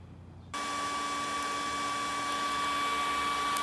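A hair dryer blowing air into a fired-up forge switches on abruptly and runs steadily, a loud whirring motor hum with rushing air that holds constant.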